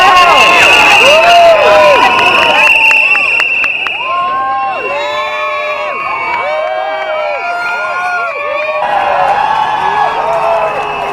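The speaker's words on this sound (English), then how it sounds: "Huge crowds." A dense crowd cheers and whoops at the Dublin Pride parade in the city centre, loud and continuous, with many shouting voices layered over one another throughout.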